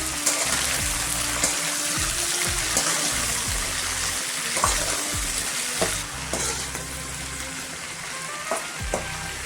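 Long beans and potatoes being stirred in a frying pan, with steady close sizzling and frying under repeated scraping strokes of a spoon against the pan, continuous throughout with no talking.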